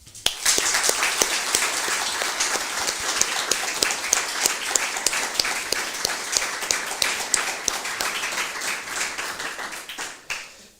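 An audience claps after expert panels at a talk event on diversity, inclusion and artificial intelligence. The sustained, dense applause runs for about ten seconds at steady loudness, then tapers and fades out at the end.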